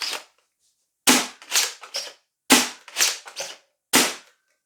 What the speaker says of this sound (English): Let's insert the magazine.